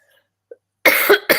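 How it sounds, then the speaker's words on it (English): A person gives a quick burst of coughs after a near-silent pause, two or three harsh, close bursts in about half a second. "I'm coughing, but I'm okay."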